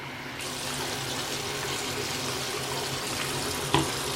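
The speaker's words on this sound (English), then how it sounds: "And I'm going to add a little bit more water to it." Water pours steadily into a beauty blender washing machine, a continuous close gushing and splashing with a brief knock near the end.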